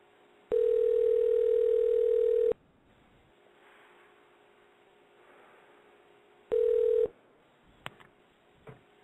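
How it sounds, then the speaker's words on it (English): A telephone handset gives a steady dial tone for about two seconds, then a second short tone burst, followed by a few faint clicks and tones as a call is dialed in a quiet room. "I'm gonna call a special guest."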